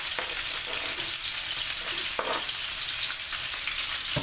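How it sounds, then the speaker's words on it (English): Onions sautéing in oil in a pan with steak remnants, a steady close sizzle and crackle with occasional scraping stirs, no voices. "We're going to saute our onions"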